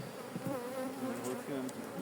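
Honeybees buzz inside a nucleus hive packed with bees from a colony preparing to swarm, a close, steady drone with wavering pitch and no talking.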